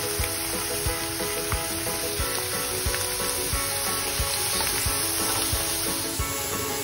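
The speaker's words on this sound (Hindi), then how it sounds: "मीडियम टू लो फ्लेम पे ही इन पोटैटो वेफर्स को तलना है" Thin potato wafers fry in hot oil over a medium-low flame with a dense, even sizzle and crackle, marked by faint regular clicks as the slices are gently stirred.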